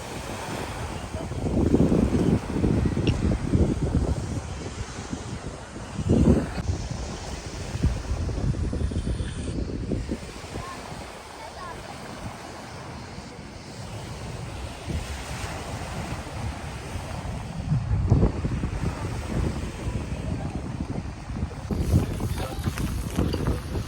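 Sea waves washing onto the beach at Kabak Bay in Muğla, loud surging bursts of surf mixed with heavy wind buffeting the microphone, continuous throughout.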